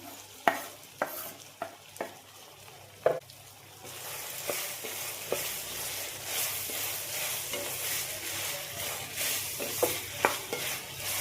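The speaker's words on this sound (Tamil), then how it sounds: "எல்லாம் நல்லா வதங்கி வரட்டும்" Three large onions sauté in a pan with chicken, with a soft, steady sizzle and repeated sharp clicks of a utensil stirring and scraping.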